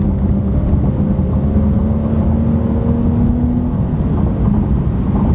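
A 2015 Dodge Challenger SXT Plus accelerating from about 50 to 70 mph, heard from inside as a steady, smooth engine drone with a gently rising tone under road noise, loud and continuous without any talk.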